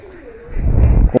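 A pigeon gives a short, close, low coo inside a pigeon house, followed by a brief flutter-like rustle at the end.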